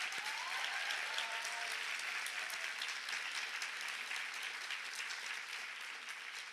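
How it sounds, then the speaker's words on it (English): A conference audience applauds steadily, a dense wash of clapping that stays fairly even and moderately distant for several seconds, slowly tapering toward the end. "I think we need to give her a huge round of applause."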